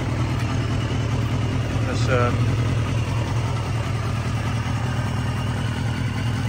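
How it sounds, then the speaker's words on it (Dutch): A Honda CBR250R motorcycle engine idles steadily throughout, a constant low rumble running under a voice talking nearby. "Het motortje loopt wel mooi."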